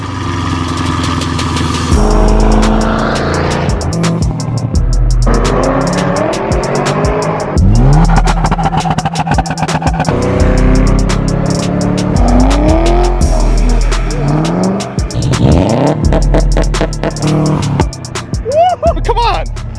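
A 2015 Chevrolet Camaro SS 1LE with a 6.2 liter V8 roars loudly and close, revving hard through rising gear pulls with sharp shift breaks, the deep engine note sustained across the whole stretch.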